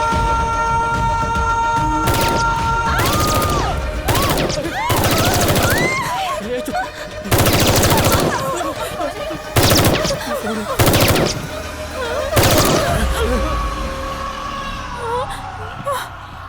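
Machine gun bursts in a Tamil action-comedy film scene set during a terrorist attack on a Madras mall, loud rapid volleys repeating in short bursts across the clip, mixed with shouting, wailing voices and dramatic score.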